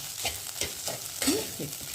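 Oil sizzles steadily around okra frying in a pan, with several soft scraping stirs at a regular pace; no voices.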